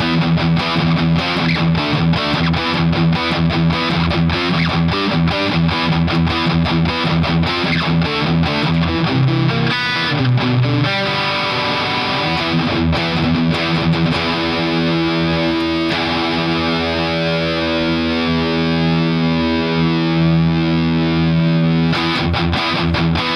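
Electric guitar played through a 1989 Marshall JCM 800 2205 amp, with a heavily distorted, crunchy tone as chords and riffs ring out loud and continuously, with no one talking.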